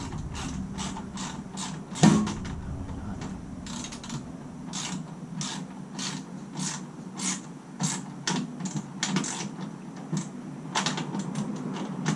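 Rapid ratchet clicking while bolts are cranked down tight on a Harbor Freight service cart, in bursts of quick close metallic pawl ticks with brief pauses, no speech.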